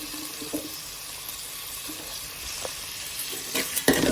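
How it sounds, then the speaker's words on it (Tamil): Tomato and onion sautéing in oil, a steady moderate sizzle with stirring clatter that grows louder near the end. "அது வரைக்கும் நம்ம அந்த எண்ணெயிலே வந்து வதக்கி விட்டுலாம்"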